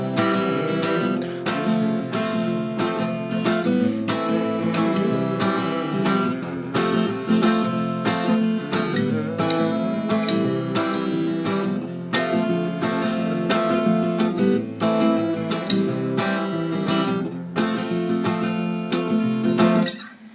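Acoustic guitar strummed through a verse pattern, the thumb plucking the root note of each chord before the strums, in a steady, dense rhythm that carries alone for the whole stretch with no talk.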